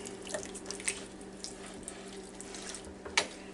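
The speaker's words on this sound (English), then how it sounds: "Drain it first. Make sure you get the water out of it." Canned kidney beans are drained for chili, water trickling and splashing softly into a sink with a few small drips and a brief clatter, quiet and alone.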